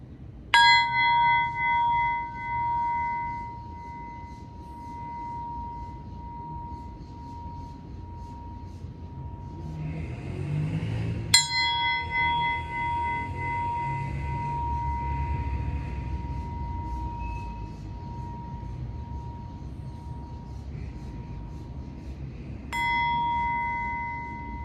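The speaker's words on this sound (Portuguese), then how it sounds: "O nosso sininho maravilhoso, lindo e gostoso." A small bell rings three times, each a single clear strike about eleven seconds apart that fades out in a long, ringing tail. Quiet room noise fills the gaps between strikes.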